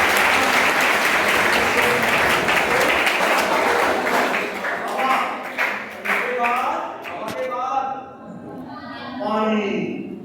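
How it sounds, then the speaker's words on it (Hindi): Loud applause from a school crowd at an Indian inter college honours a schoolgirl named Akshu, dense clapping that thins and breaks up toward the end as voices begin to surface. "अक्षु के लिए जोरदार तालियां।"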